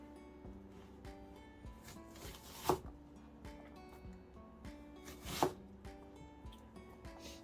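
A knife cuts an onion on a cutting board with quiet, sparse strokes. Two louder, sharper chops stand out about three seconds apart over faint background noise.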